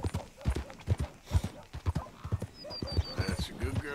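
Rhythmic hoofbeats of a horse trotting in Red Dead Redemption 2, a steady clip-clop close by, with a brief whinny and someone talking over the ride.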